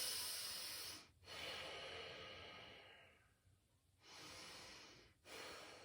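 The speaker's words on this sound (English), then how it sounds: "Let us focus and breathe." Slow deep breaths in a yoga squat, long airy inhales and exhales close to the mic, with two brief pauses between breaths and no talking.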